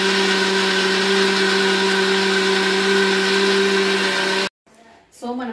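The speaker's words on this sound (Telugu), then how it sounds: "సో ఇవన్నీ బాగా మిక్సీ పట్టేసుకోవాలి" A mixer grinder whirs loudly and steadily as it blends chillies, garlic and onions, then cuts off abruptly near the end, followed by a brief voice.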